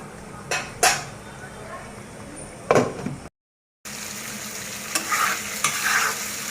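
Mashed potato fries in a pan with steady sizzling. A utensil scrapes and stirs it in a few sharp strokes, and there is a brief silent gap partway through.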